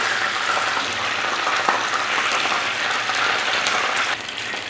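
Battered fried chicken sizzles in hot oil as pieces are lifted out, a loud, close, continuous crackling hiss that holds steady throughout with no talking.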